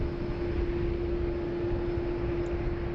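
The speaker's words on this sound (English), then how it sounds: "It's going to be the QJet 1504 coming in from Canberra, another 717" QantasLink Boeing 717 arriving on runway 16 right at Sydney from Canberra, a steady distant jet rumble with a sustained engine tone, constant and alone.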